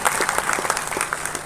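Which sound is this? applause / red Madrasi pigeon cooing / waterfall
applause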